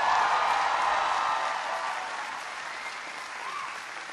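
Audience applauding and cheering for a large undergraduate engineering program at a manufacturing innovation event, a broad steady wash of clapping that slowly fades toward the end.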